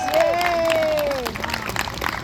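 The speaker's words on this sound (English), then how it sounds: "Let's give my dad a big round of applause" An audience at a karate demonstration gives a steady round of applause mixed with crowd noise and a cheering voice, fading slightly toward the end.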